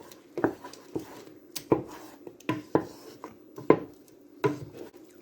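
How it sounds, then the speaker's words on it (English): A pot of thick cooking mush being stirred, a spoon scraping and knocking against the pot in irregular strokes, close and fairly quiet with no talk. "Me just stirring here."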